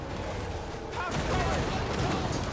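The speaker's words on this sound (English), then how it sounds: "A little bit of grenade launcher action there, though." Grenade launcher fire booms amid a Total War Warhammer 3 battle, a muffled blast followed by a steady rumble of further explosions and distant combat noise, with a voice talking over it.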